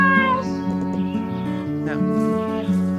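A cat meows in the video game Kamilia: several short, close meows, loud and alone, sitting over a steady musical background.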